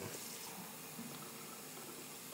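A kitchen tap runs warm water in a steady, soft, continuous gushing stream, fairly faint and alone without voices.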